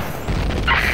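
A grenade explosion in the shooter game Combat Arms lands as one short, heavy boom with a broad crashing tail during a clan war match.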